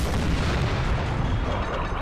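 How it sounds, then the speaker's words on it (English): Cannon fire in the Napoleon: Total War video game, with large field guns in battle: a dense, continuous roar of booms and rumble, loud and unbroken throughout. "These cannons are huge."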